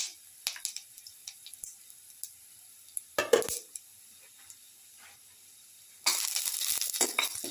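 Garlic in a pan for a coconut fish stew, scattered light crackles and small clinks at first, then a sudden loud sizzling hiss that carries on steadily.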